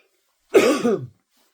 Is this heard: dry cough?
yes